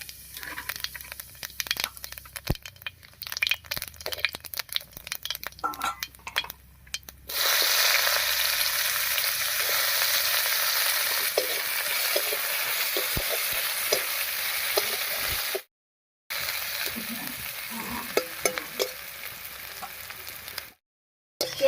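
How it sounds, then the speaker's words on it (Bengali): Whole cumin and chopped onion hit hot oil left from frying fish, bursting into a loud, continuous sizzle with scraping stirs. The sizzle runs near and steady, breaking off briefly twice. "এবারে মাছ ভাজার এই তেলের মধ্যে ফোড়ন দেবো আর ফোড়ন দেবো গোটা জিরা আর পেঁয়াজ কুচি দিয়ে"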